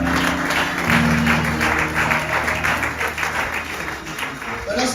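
A church congregation claps in a steady rhythmic patter over sustained musical tones, loud and continuous throughout.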